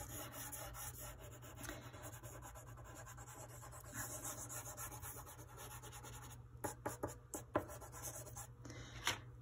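Pink chalk dragged across black paper to fill in a tall, skinny building drawing: faint, close scratchy rubbing strokes that grow into a few sharper scrapes near the end, with no talking.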